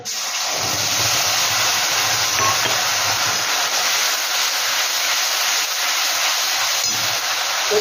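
Grated tomato hits spiced oil in a hot pan for a vegetarian paneer dish, giving off a steady, loud sizzling hiss that runs evenly throughout with no one speaking.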